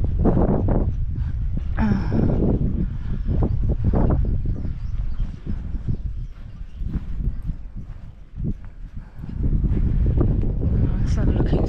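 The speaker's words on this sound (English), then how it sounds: "Cold day today, quite windy." Gusty wind on a cold day roars and buffets the microphone outdoors beside a boat, a loud, continuous low rumble that surges and dips throughout.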